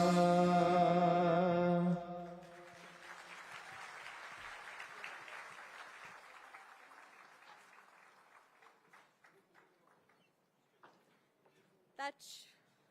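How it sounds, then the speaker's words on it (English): A patriotic song's sung note ends and an audience at a civic reception for the armed forces breaks into applause that gradually thins out into scattered claps, followed by a brief voice. "That surely was one performance which was deserving of a huge round of applause."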